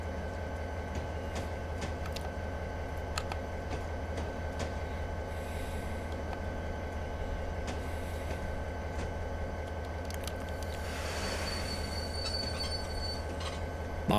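Locomotives of a local freight train braking on a rail line, a steady heavy rumble of railcars with metallic wheel squeal rising toward the end, continuous and fairly close.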